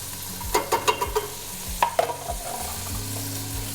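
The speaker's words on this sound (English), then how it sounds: "We're gonna stir this all together." A spoon stirs radishes and green chilies with chicken in a cooking pot, a quick run of knocks and scrapes against the pot followed by a softer bubbling simmer, close and alone without speech.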